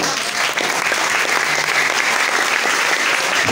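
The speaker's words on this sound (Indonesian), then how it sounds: "Sekali lagi tepuk tangan yang meriah untuk beliau." Audience applause welcoming a guest ustadz at a school assembly in an Islamic high school, a dense sustained wash of many hands clapping, loud and even, with no talk over it.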